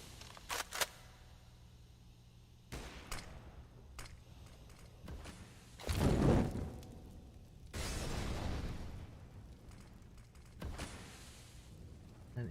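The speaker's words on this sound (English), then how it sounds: "The nade on through." A grenade bursts with a heavy, booming thud during Counter-Strike play on the Mirage map, followed by a second rumbling blast and scattered sharp pops from the match.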